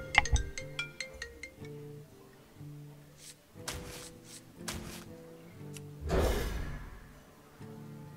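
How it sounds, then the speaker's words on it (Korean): Mobile phone ringtone playing a bright melodic tune of repeated tones, fairly faint and close, with a brief rustle partway through. "전화 한 번만 받을게요"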